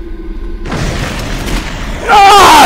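Wooden beams smashed and collapsing in the video game Clive Barker's Jericho: a loud booming crash bursts in abruptly and carries into a sustained rumbling roar. It swells louder near the end, joined by higher ringing and squealing tones.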